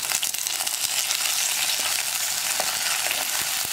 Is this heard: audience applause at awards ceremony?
no